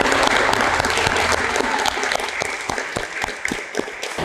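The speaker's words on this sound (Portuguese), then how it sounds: "Un aplauso." An audience at a children's and youth dance competition awards ceremony claps for a winner, a full, dense burst of applause that gradually thins into scattered separate claps toward the end.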